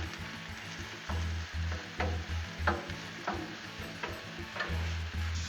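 Chorizo and steak sizzle on a Blackstone griddle, a steady close frying hiss broken by regular sharp taps and scrapes of a spatula against the flat top, with no one speaking.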